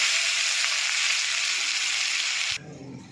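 Nigella seeds and onion fry in hot oil with a loud, steady sizzle that drops abruptly to a softer crackle near the end.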